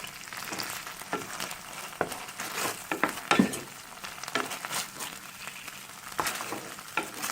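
Potato and anchovy sambal fries in a pan with oyster sauce, a soft continuous sizzle broken by scraping, clacking stirs at irregular intervals, fairly quiet and close.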